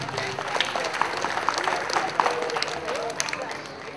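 Lively applause from a crowd at an outdoor village event, a dense, fairly loud clatter of clapping with voices and shouts mixed in throughout.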